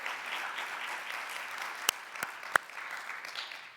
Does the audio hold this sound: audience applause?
yes